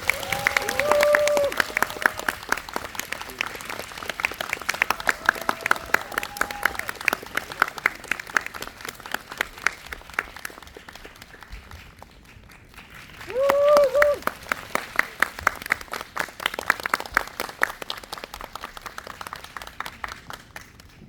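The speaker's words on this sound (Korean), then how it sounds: "감독님 뜨거운 박수 맞아주세요." A cinema audience at a post-screening talk clapping warmly to welcome a film director, with dense, sustained applause that eases off and then swells again, plus scattered whoops and a few voices.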